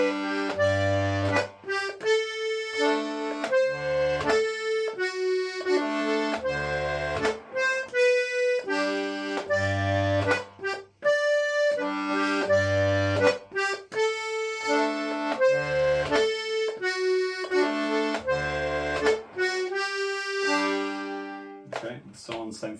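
A diatonic GC button accordion, or melodeon, plays a bouncy tune with pulsing bass notes under chords, steady and close, with no talking.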